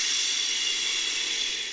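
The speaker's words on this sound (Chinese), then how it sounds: "这是一场大暴雨" Heavy rainstorm in a Peppa Pig cartoon: a dense, steady hiss of pouring rain, loud and unbroken, fading slightly toward the end.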